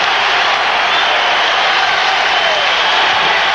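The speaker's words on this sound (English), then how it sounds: "An incredible, raucous crowd backing their ball club" A raucous basketball crowd at a 1982 NBA Finals game between the Philadelphia 76ers and Los Angeles Lakers roars continuously, a dense, loud wall of cheering and noise with no breaks.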